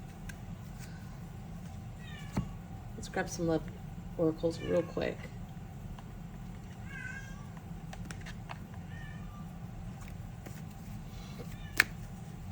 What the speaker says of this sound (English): My kids brought home kittens, so if you hear meowing in the background,